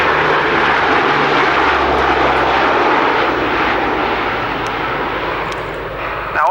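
Loud, steady roar of a military aircraft flying close by at the 1992 RAF Finningley airshow, with engine noise filling the whole stretch and easing slightly near the end.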